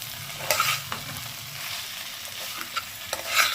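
Spice masala with Kashmiri chili powder being stirred and sautéed in a pan for a tomato chicken curry, a soft continuous sizzle broken by scraping stir strokes and a few sharper clicks, close by, with no talking.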